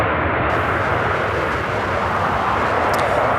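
A jet airliner arriving at Charlotte Douglas airport, heard as a steady, loud broadband roar of engine and rushing air that holds evenly throughout with no voices.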